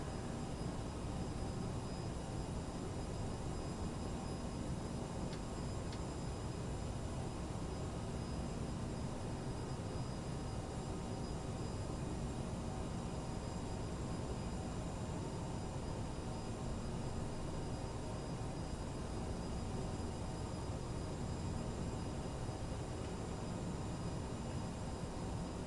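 A CRJ 700 airliner in Microsoft Flight Simulator slows for landing with speed brake out and flaps going to full, its engines giving a steady, loud, unbroken roar and whine that holds level throughout.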